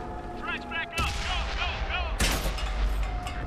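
Tank cannon fire in World of Tanks, two heavy booming shots about a second apart, each followed by a rumbling tail, with speech-like sounds faintly underneath.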